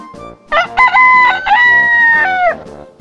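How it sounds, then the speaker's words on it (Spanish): A rooster crows loudly and close by, one full cock-a-doodle-doo with a few clipped opening notes and then a long sustained final call, heard alone. "El kikiriki del animalito retumbó en el espacio"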